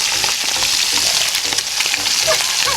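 Espada fish frying over high heat gives off a loud, steady sizzle with crackling bursts, dense and close throughout, with no one talking.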